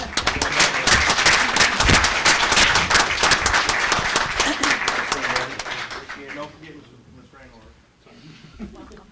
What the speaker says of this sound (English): Can I get a round of applause for him and Brooke?